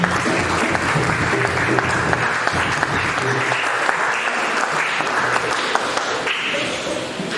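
A church congregation applauds together at a worship service, a dense, steady wave of clapping close by and loud that holds without a break for the whole stretch and eases slightly at the end.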